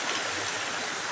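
A river stream rushing steadily, a broad continuous wash of flowing water heard close and fairly loud with no talking.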